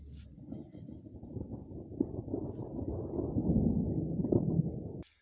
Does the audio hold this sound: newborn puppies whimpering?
no